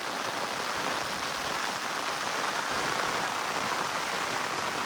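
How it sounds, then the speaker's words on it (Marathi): Heavy monsoon rain falling outdoors, likely drumming on an umbrella, a dense, steady broadband hiss with no letup and no voices. "केवढा पाऊस येत आहे."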